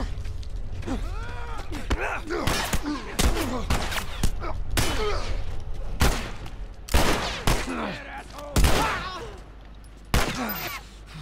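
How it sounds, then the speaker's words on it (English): Enemy gunfire in The Last of Us, a rapid series of loud cracking shots and bursts scattered throughout, some near and sharp, mixed with game effects and a voice talking. "Oh, they're shooting me."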